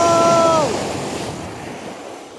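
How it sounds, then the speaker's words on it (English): A big sea wave crashes on the coast at Staithes, UK, as a loud roaring surge with wind buffeting the microphone, slowly subsiding. A voice briefly exclaims at the start. "Okay, big carnage wave right here."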